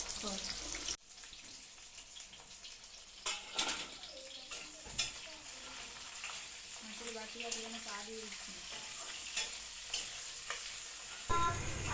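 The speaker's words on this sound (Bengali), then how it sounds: "এখানে চিকেনের জন্য পেঁয়াজ ভাজা হচ্ছে" Onions fry for a chicken dish with a faint sizzle under scattered kitchen clatter, stirring knocks and brief splashes, all fairly quiet, with muffled voices in the background.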